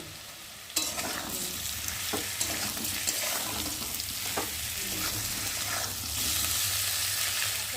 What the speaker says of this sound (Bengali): তো চলো এখন মশলাগুলো দিয়ে ভালো করে আলুটা কষিয়ে নেব।